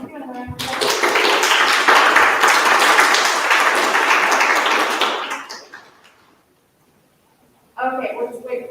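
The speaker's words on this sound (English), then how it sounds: "Another round of applause." An audience at a school public-speaking event at Colegio Chile Norte gives a burst of applause that stays strong for about five seconds, then fades to silence. A voice follows afterward.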